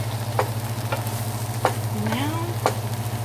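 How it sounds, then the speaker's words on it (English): Eggplant frying in a pan as sauces go in: a steady sizzle under a low hum, broken by several sharp clinks and stirring scrapes. "And then we're gonna add our sauces to the pan."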